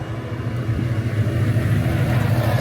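A McLaren F1 road car's engine at the Le Castellet circuit, a steady, loud, low rumble with a constant drone and no talk over it.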